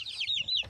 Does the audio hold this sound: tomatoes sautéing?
no